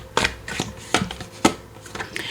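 Tarot cards being shuffled by hand, a short run of crisp riffling bursts and soft taps in uneven rhythm, close and moderately loud, with faint voice in the background.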